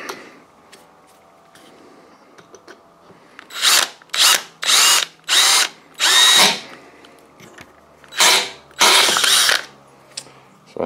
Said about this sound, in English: everything's brass on this, and even though it's chrome plated, so it's very easy to drill